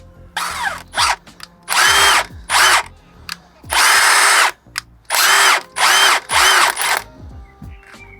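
A power drill runs a bolt through a thread while working on a Mini Cooper S R53, whirring loudly in repeated bursts of one to two seconds separated by short pauses.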